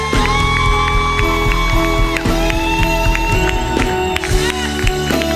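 A worship congregation cheers and shouts joyfully during prophetic adoration, whoops and scattered clapping rising over loud sustained music, with excited voices throughout.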